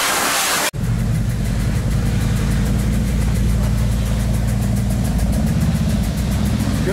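A loud Harley-Davidson motorcycle engine idles steadily with a deep, throbbing rumble, close by, after a brief cutoff at the start.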